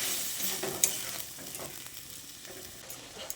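Bitter gourd with spices and a little water being stirred in a pan, a soft scraping and gentle sizzle with a few light clinks of the spoon.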